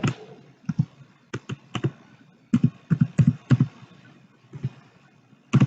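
Someone types an answer into an Excel exercise on a computer keyboard, giving irregular bursts of sharp, close key clicks with short pauses between them and no voices.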